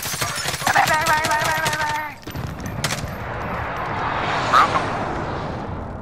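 Video game gunfire bursts early on, a quick run of sharp shots over tonal game sounds, then a drop and a steady wash of rumbling battle noise with a faint voice underneath.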